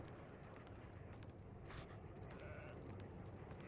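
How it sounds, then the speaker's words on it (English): Heroes of the Storm tournament gameplay, with the explosive sheep bleating faintly amid a dense, steady wash of game effects. "We hear the explosive sheep."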